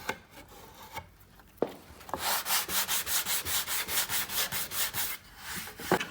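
Rhythmic rasping of sandpaper on a solid wood panel, a steady run of about a dozen quick back-and-forth strokes, close and fairly loud, with scattered handling knocks before and after.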